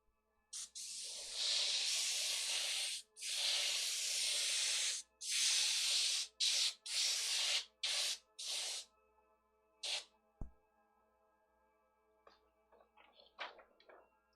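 An airbrush sprays paint through a brick-pattern stencil onto a shirt, hissing in a string of close bursts, long at first, then shorter, with a few faint taps and rustles after.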